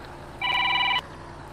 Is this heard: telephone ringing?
yes